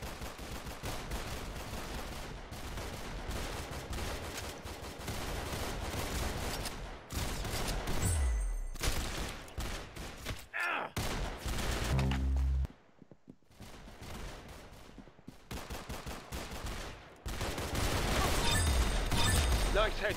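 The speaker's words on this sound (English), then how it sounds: "Very good shooting." Rapid bursts of gunfire fill a round of the Roblox shooter Arsenal, dense and loud with short pauses between volleys, while voices talk over the shooting.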